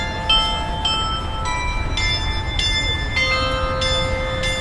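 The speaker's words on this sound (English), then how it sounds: "to the sound of bells ringing" Church bells ring repeatedly in a park, with several tuned strokes sounding in a steady sequence over a constant outdoor hum. No one speaks.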